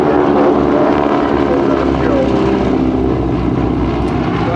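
GEICO Skytypers propeller airplanes, large heavy tailwheel types flying in diamond formation at an air expo, give a loud, continuous droning roar of radial engines that stays steady and close throughout the pass.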